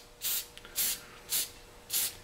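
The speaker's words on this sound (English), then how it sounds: "So when I spray this, I spray down into that shoulder right there, and I spray the rest of the tenon." Four short hissing bursts from a spray can applying finish onto the tenon and shoulder of a take-down wooden longbow, evenly spaced, close and fairly soft against a quiet background.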